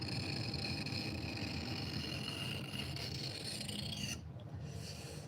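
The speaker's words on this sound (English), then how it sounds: "Try not to throw the knife on the floor as you sharpen it." A knife is drawn over a sharpening tool in a continuous close rasping rub that holds steady for about four seconds, then drops to a quieter hiss. No one speaks.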